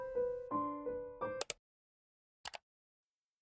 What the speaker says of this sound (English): The first two sound effects I made are clicking sounds that play when you press certain buttons.